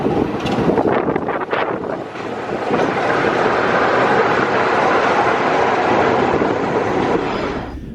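Heritage train on the East Lancashire Railway arriving near Rawtenstall, a steady loud rumble of wheels and carriages passing close by with wind buffeting the microphone, fading out at the end.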